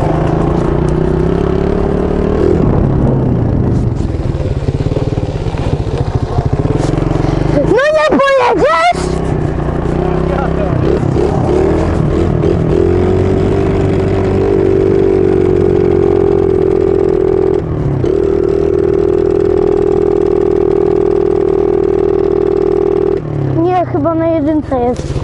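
A Beta 300 dirt bike engine runs steadily at idle and low revs close by, a continuous mid-pitched drone with slight throttle changes, while people talk over it throughout.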